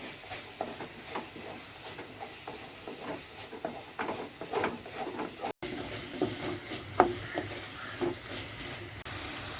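Chopped tomatoes are stirred in a pan for momos, giving soft, continuous scraping and a faint sizzle that stay low and close throughout, with no talk.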